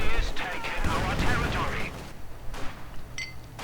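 Tank cannon and field gun fire in a World War II real-time strategy battle, a T-34 and artillery pounding infantry, with dense overlapping blasts and rumbling explosions under continuous talk, thinning to scattered booms.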